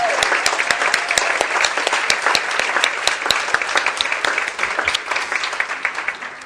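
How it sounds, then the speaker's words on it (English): A church congregation on Palm Sunday claps in sustained applause for a recognized member, steady dense clapping throughout at close range with no voices standing out. "John, we just applauded for you"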